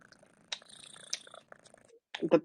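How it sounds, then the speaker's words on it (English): A cat purring close up, a soft rhythmic rumble with faint breathy pulses, ending in a few louder rumbles. "The purr is just so strong."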